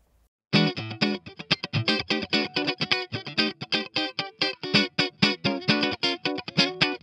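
A Rick Turner Model 1 electric guitar strums a steady rhythm of bright chords, loud and close, with drive and reverb off, a processed, slightly effected tone and no voices.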